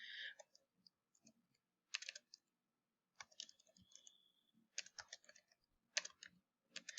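Bursts of quick keyboard typing, clusters of crisp clicks separated by short pauses, close and fairly quiet.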